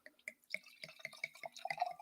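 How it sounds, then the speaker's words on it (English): Wine poured from a bottle into a glass, heard as a quick run of close, distinct glugs and drips that rise in pitch as the glass fills, with no talk over it. "Let me pour some wine for Dave's statement there."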